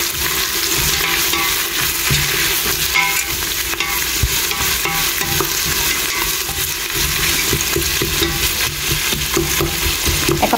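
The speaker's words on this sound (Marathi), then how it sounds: "आनी आतां गॅस करता फास्ट आनी दिता बरो मिक्स" A mutton mixture stirred in a pan over a high gas flame: loud, continuous sizzling with constant scraping and stirring throughout, close up and with no voices.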